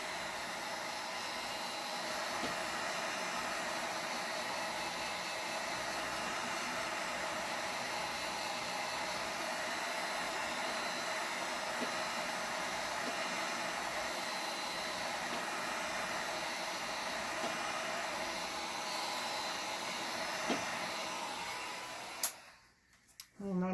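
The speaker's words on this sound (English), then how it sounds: "You don't want to keep the heat gun in any one place for too long" A heat gun blows steadily across a mica swirl, a continuous loud airy rush that holds for about twenty seconds before cutting off abruptly near the end.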